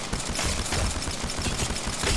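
P2020 pistol firing in Apex Legends, a fast unbroken stream of shots, loud and close throughout a short stretch.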